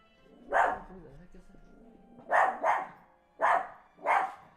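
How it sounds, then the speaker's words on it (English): Several dogs bark in short bursts, about four loud barks spaced across a few seconds with quieter background between them, somewhat close by. "as my dogs are over here letting me know"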